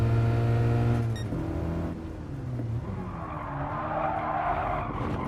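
A 1991 Lancia Integrale HF Evo rally car running a lap: a loud engine drone with shifting pitch, then tires skidding and squealing as the car slides, with the engine note rising and falling through the corner.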